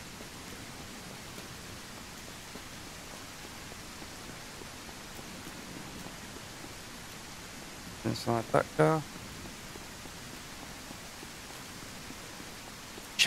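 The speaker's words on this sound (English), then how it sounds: "This rain is horrendous." Heavy rain in the SurrounDead video game hisses as a steady, even wash throughout, with someone briefly speaking over it near the end.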